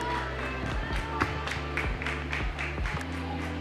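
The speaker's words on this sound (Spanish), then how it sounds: "acompáñenme a darle un fuerte aplauso a Sergio por esta gran presentación" An audience at a book-fair conference in Guadalajara claps for a speaker, a steady, evenly paced applause of many hands, moderately loud over a low background hum.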